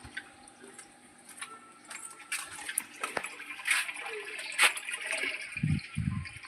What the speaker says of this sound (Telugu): నీళ్ళు అయితే నింపుతున్నా